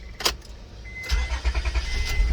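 A Honda Accord fitted with a new starter cranks briefly and then fires up, settling into a steady, close engine rumble. There is no talking.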